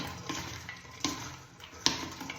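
Potato pieces and bitter gourd (karela) for chips are tossed and mixed in a bowl, giving close, soft rustling and scraping with a couple of sharper knocks against the bowl and no talk.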